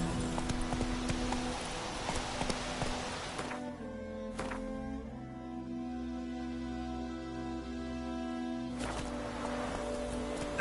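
Roach the horse trotting in a video game, rhythmic hoofbeat clip-clop that drops back mid-clip and then picks up again, with a low background music bed.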